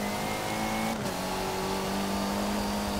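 Touring car racing in the video game Forza 7, with a loud, steady engine drone as the car accelerates and a brief gear-shift dip, heard alone without talking.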